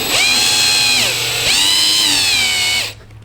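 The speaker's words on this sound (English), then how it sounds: "I'm gonna just take my drill, line it up, and slowly drill," A loud power drill whines steadily while drilling through a plastic front lip on a BMW F80, dipping in pitch briefly midway as it bites, then spins down and stops near the end.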